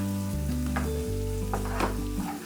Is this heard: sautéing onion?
yes